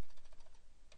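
Computer keyboard keys tapped in a quick irregular run of soft clicks, close and fairly quiet, while editing a word in a typing program.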